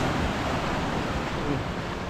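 Strong sea waves roll in at a fishing spot in Kuskus during rough weather, a dense, continuous roar of surf and wind filling the air without a break.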